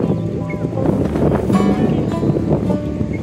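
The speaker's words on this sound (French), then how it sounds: "beaucoup de vent là en ce moment" Strong, steady wind gusting across the microphone outdoors near the Nicaragua border crossing, a continuous roaring rush with a brief surge partway through.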